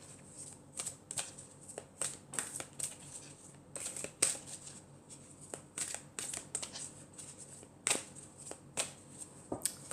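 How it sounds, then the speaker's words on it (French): Archangel Michael oracle cards are shuffled close up, giving a run of crisp riffling flicks and soft slaps that come in irregular bursts with short pauses between them. "on va prendre une carte de l'archange Michael"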